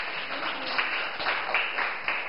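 Students in a Thai classroom applauding a classmate for a correct answer, a dense burst of many hands clapping at once, steady and fairly close for about two seconds.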